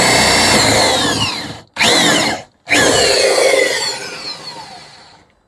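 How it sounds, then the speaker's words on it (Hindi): Electric drill boring a hole in a drawer for a lock, with two loud whining bursts and short pauses between them, then a longer run that fades out, close and without speech. "अब हमको ड्रिल चलाना है।"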